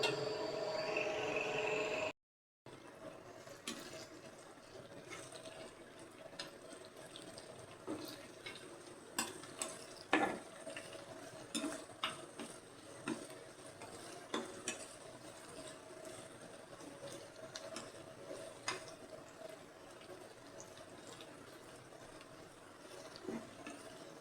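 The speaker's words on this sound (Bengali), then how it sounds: "রান্না করতেছি, এই যে ডাল বাগা দিতেছি।" Dal is tempered in a hot pan with olives added, giving faint sizzling under scattered scrapes and clinks of stirring, after a brief louder burst and a short gap at the start.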